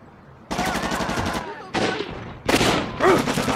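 Enemy gunfire in Shellshock 2 arrives as loud, close bursts of automatic fire, three rattling volleys separated by short gaps, with brief voices mixed in.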